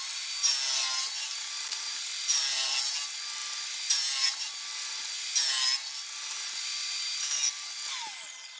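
A hand saw cuts a dado into scrap wood for workshop storage, making steady back-and-forth rasping strokes in a regular rhythm, close and moderately loud, with no one speaking.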